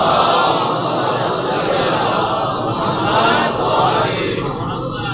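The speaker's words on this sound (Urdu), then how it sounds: "بلند تر صلوات پڑھے محمد و آل محمد" A large crowd at a Muharram majlis recites salawat in unison, a loud, sustained wall of massed voices that swells and fades slightly over several seconds.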